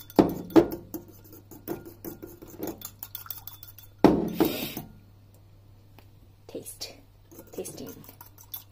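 Cumin dressing of olive oil, soy sauce and juice being stirred by hand in a kitchen, giving a few clinks and scrapes of utensil against dish, mostly sparse and close, with bursts around the start and midway.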